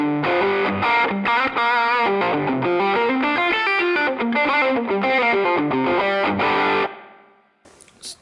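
An electric guitar plays through a ToneX pedal with reverb switched on, giving a distorted, chorused run of notes that rings out loud and close before cutting off and fading.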